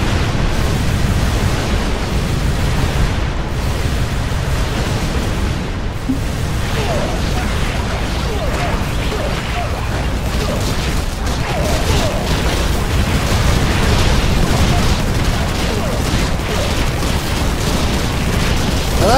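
Siege cannons fire in the video game Infested Planet, a continuous dense barrage of booms and explosions forming a loud, noisy wall of sound throughout.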